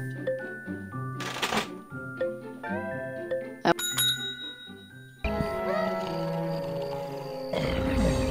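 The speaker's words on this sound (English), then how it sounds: "let's put some bells on these guys" Bells jingling on piñatas in a video game, several bright bicycle-bell dings and tinkles mixed with playful game music and effects, growing into a dense layered jingle near the end.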